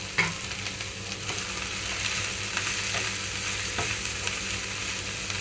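Chopped cabbage and green chillies frying in a pan for a cabbage tomato chutney, a loud continuous close sizzle with a few sharp stirring clicks throughout.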